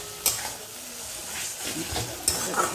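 Spices hit a hot pan for egg curry with a steady close sizzle, and a spoon scrapes and clacks through the frying at intervals.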